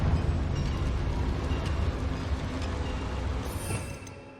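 Blasting spell explosion in the Hogwarts Legacy video game, set in a mine: a loud, dense rumbling burst that fills the whole clip and fades slowly toward the end, with no voices.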